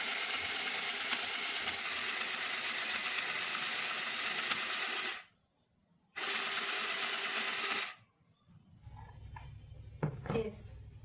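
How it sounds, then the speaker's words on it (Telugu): A small mini sewing machine stitches through two folded layers of fabric, a loud steady rattling whir that stops briefly and restarts. It then cuts out, leaving quiet handling noises and a low hum. "ఇప్పుడు సెకండ్ లేయర్ మీద నేను కుడుతున్నాను"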